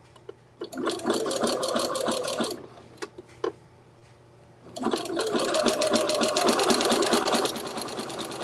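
A sewing machine back stitches at the seam intersections of a quilt, two loud sustained bursts of rapid needle hammering broken by a short pause with a few isolated clicks.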